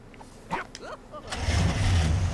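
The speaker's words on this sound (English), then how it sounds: "the next one is the pink convertible. So obviously that's a vehicle." A pink convertible car in Lego Worlds starts up, a brief crank giving way to a steady low engine idle that grows louder, with short voice-like chirps at the start.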